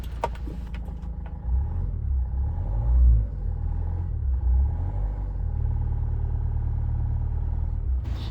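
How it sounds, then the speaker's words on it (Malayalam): A car engine cranks briefly, then settles into a steady low idle rumble that holds close and even, with a faint click near the end. "ജസ്റ്റ് ഒന്ന് സ്റ്റാർട്ട് ആക്കുന്നുണ്ട്"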